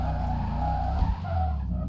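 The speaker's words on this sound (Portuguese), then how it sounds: "Deixa eu mandar o zerinho aqui, ó." Car tires screech and skid continuously as a car spins donuts in the GTA V video game, with a low engine rumble underneath. The sound is loud and steady, with no talking.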